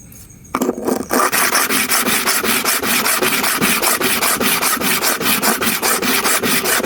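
A clipper blade is worked across a diamond stone coated with oil and powder. After a brief quiet start come loud, close, rhythmic rasping strokes at a steady pace.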